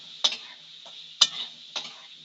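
A spatula stirs potatoes with turmeric and salt in a frying pan: three or four sharp scraping taps against the pan, each fading quickly over a faint sizzle.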